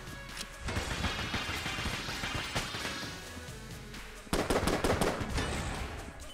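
Loud, rapid weapon fire rattles almost continuously in the dungeon shooter Enter the Gungeon, dense chattering bursts with impacts, pausing briefly before a fresh, sharper volley.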